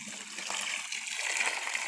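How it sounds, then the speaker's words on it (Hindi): Water from a solar-powered pump pours out in a steady splashing rush, a continuous moderately loud gush with no talking. "तो ये देखें कितने ज़बरदस्त तरीके से पानी को निकाल रहा है।"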